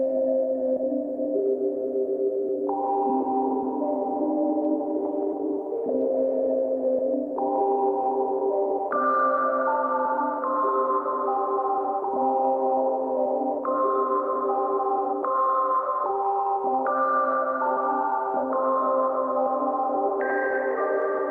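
A spooky lead sample plays from the pads of an Akai MPK Mini Plus, a steady, eerie tonal line of held notes stepping up and down in a slow repeating melody, with no voices.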